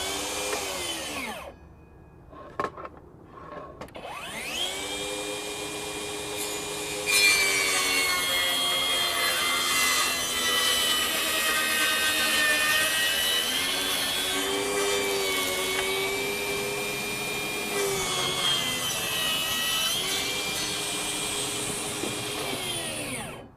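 A FLEX 24V brushless table saw rips through 4x4 wood. The motor spins up with a rising whine, then holds a long, loud, harmonic-rich cutting drone that wavers under load before winding down. It is close, with no talking.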